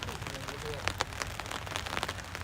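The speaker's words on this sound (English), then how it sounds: "To be fair, it is raining, so it may cloud the vision." Rain patters steadily on surfaces at an outdoor wiffle ball game, a dense crackling hiss with scattered sharper drop hits, continuous through the short stretch with a voice faintly in the background.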